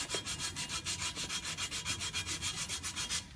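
A propeller being sanded by hand with 180 grit sandpaper during a localized repair, heard as a close, steady rhythmic rasp of about fifteen even back-and-forth strokes, with no talking.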